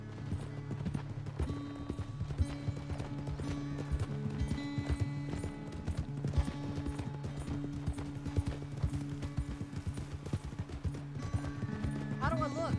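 Horse hooves clip-clop in a steady trotting rhythm throughout in Red Dead Redemption 2, moderately close and fairly quiet, with voices talking over the hoofbeats and a brief whinny near the end.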